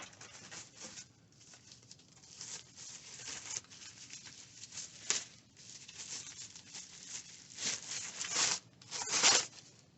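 Packaging is unwrapped from an HP EliteDisplay monitor arm, with close, soft crinkling and rustling of plastic or paper in irregular bursts that grow louder toward the end.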